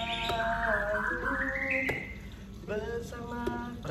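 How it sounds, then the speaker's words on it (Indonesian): Birds chirp at a campsite, with several clear whistled notes and trills overlapping at close range, fairly loud over a steady background hiss. "Perasaan di alam nih burung-burungnya."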